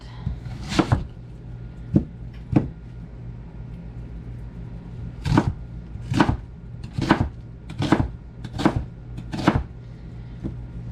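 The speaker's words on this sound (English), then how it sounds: "And I'll go ahead and chop this onion up." A knife chopping an onion on a cutting board, sharp distinct thuds, a few spaced strikes followed by a faster regular run of about six cuts, close and clear over a low steady hum.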